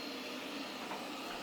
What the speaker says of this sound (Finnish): Nyt siellä on kaikki tuulettimet täysillä.